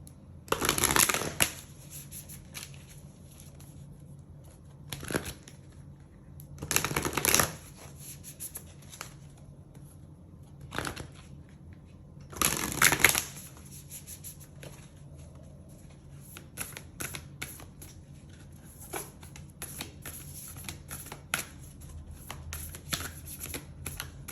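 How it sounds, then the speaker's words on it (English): Oracle cards shuffled by hand for a tarot reading, repeated bursts of riffling and flicking paper separated by quieter handling, close and fairly loud, with no talk. "I'm going to pull the oracles now, and then we're going to talk about all the cards."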